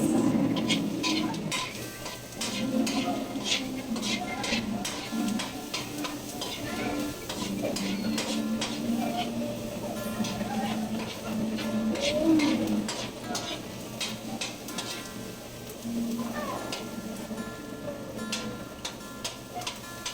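Onions fry in a pan until browned, giving a steady sizzle with repeated ticking stirs of a utensil against the pan, close and continuous, while people talk quietly in the background.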